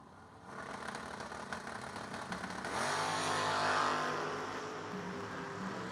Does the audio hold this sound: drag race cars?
yes